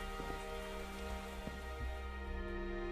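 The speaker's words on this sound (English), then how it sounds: "it's got to be the rain." Rain pattering steadily in Minecraft, a soft continuous hiss of drops under a constant tonal hum, with no talking.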